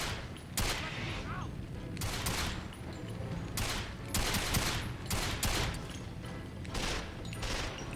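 Rapid bursts of gunfire in the PS2 game Quantum of Solace during the final mission at the Eco Hotel, repeated volleys at steady loudness over a dense battle background.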